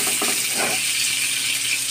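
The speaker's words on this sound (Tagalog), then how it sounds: "I-pan-fry muna natin mga idolo. Ganyan lang po, overlow heat lang tayo para hindi tayo mapisikan ng mantika." Pork kasim pan-frying in oil over low heat, a steady close broadband sizzle with faint scraping stir sounds early on, no talking.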